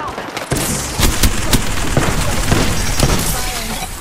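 Rapid gunfire from an Apex Legends firefight, loud and close, with repeated sharp shot bursts over a constant dense battle din, with a voice speaking briefly amid the shooting.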